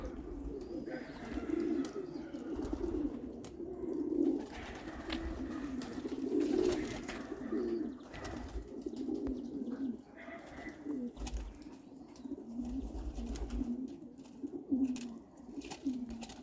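Homing pigeons coo softly and repeatedly in low, rolling calls, several birds close by, with faint chirps and light background noise.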